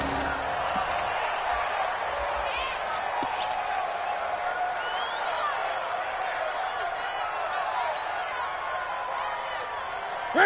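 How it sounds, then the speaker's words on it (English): Steady roar of a large indoor football crowd inside a domed stadium near the goal line, loud and continuous with scattered cheers and whoops. "The crowd here in the Dome making things difficult."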